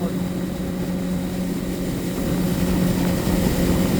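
Speed boat engine running fast on the water near Kumarakom, a loud, steady droning hum with a constant low tone that builds slightly toward the end.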